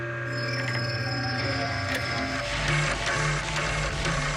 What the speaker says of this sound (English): This machine can tell us exactly what kind of gas it is that we got out of the rocks.